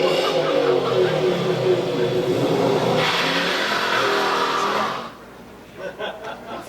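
Engine of a 2015 Ford Mustang revving hard with line lock engaged, a loud sustained roar that climbs in pitch, then cuts off abruptly, followed by faint distant sounds.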